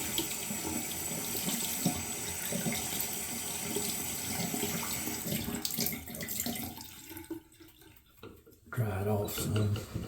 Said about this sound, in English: I'm going to wash this brush out a little so you can get a better look at it